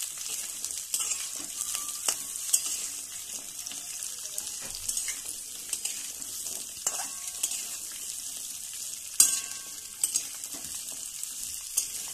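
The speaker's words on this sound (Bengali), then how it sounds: "এই আলুগুলো অল্প অল্প করে তেলের মধ্যে দিয়ে দিচ্ছি" Potatoes sizzle in hot oil over a tempering of spices, a soft continuous crackle broken by scattered sharp clicks and scrapes of a stirring utensil, with no voices.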